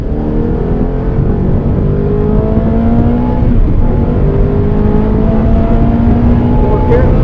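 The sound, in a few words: Fiat car engine accelerating in second gear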